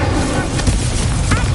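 The Incendio fire spell in the Hogwarts Legacy video game: a loud, dense burst of roaring, booming flame that fills the whole brief moment.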